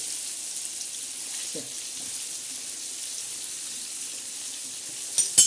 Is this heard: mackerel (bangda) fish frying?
yes